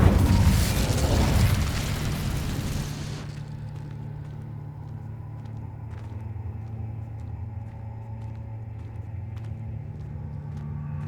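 A fire spell cast in the Hogwarts Legacy video game bursts loud and close with a rumbling, booming whoosh for about three seconds, then settles into a steady low hum and game ambience.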